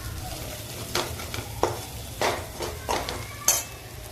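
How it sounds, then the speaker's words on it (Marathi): Chole masala spices, goda masala and chili powder are sautéed in a pan, with a low, quiet sizzle under a series of sharp spoon scrapes and taps against the metal. "तर आता हे एकदा चांगलं परतवून घेते"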